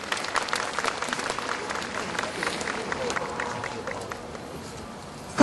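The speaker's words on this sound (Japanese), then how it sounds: "どうぞ拍手でお送りください。" Audience applause at the Tokyo Disney Resort 25th anniversary opening ceremony, a dense, continuous crackle of many hands clapping throughout, fairly distant and even, with a brief louder bump at the very end.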